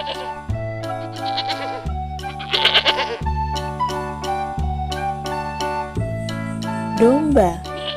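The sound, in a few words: sheep bleating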